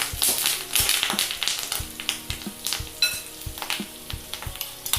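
Sliced onion and curry leaves sizzle and fry in hot oil for a samosa potato filling, a steady crackling hiss broken by the scrape and clack of a stirring spoon against the pan.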